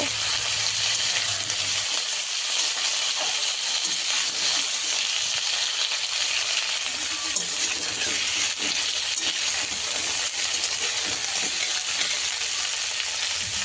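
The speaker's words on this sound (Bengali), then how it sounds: "সজনের ডাঁটা আলু সুন্দরভাবে কেটে রেখেছিলাম আমি এবং তার সাথে লঙ্কা কুচিও দিয়ে খুব সুন্দরভাবে হালকা করে ভেজে নেব" Drumstick and potato pieces with chopped green chillies fry in a pan with a loud, continuous bright sizzle and hiss, broken by occasional faint stirring clinks, no voices.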